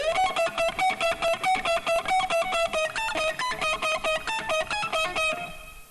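Fast tapped electric guitar lick with a distorted, effects-driven tone and no delay, about twenty evenly spaced bright notes in a steady rhythm, loud and close, with a short ring-out at the end.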